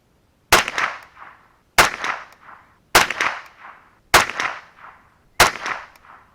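.22LR rifle shots fired with Remington Ranch Hand 40-grain ammunition, five sharp cracks spaced about a second apart, each with a short echoing tail, close and loud with no talking.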